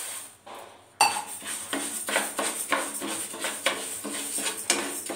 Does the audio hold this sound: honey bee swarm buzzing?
no